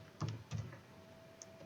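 Typing on a computer keyboard, two quick clusters of close key clacks followed by a lone faint tap against a quiet room hum.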